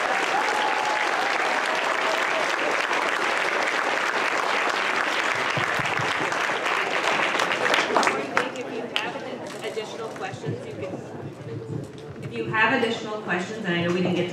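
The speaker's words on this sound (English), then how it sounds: "can we get another quick round of applause?" An audience at an academy presentation gives a round of applause, dense clapping for several seconds that thins out as voices and movement take over.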